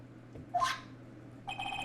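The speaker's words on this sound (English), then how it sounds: "what is it with that stupid sounding ringtone?" Phone ringtone from the Ace Attorney: Justice For All game, a short electronic chirp followed after a pause by a brighter sustained ringing tone, moderately quiet against a low background hum.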